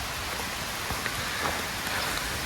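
Steady rain of a thunderstorm pours onto surfaces outdoors near a chicken yard, a dense, even hiss with scattered drop impacts and no voices.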